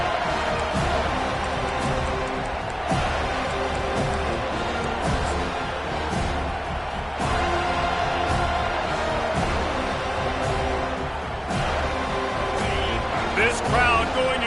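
Stadium crowd at a football game, a steady loud roar with occasional sharp bangs and swells, under continuous commentary from a play-by-play voice.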